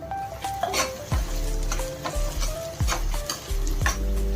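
Capsicum frying in a pan while being stirred, with a steady close sizzle broken by several sharp scraping and clanking strokes of a spatula against the metal.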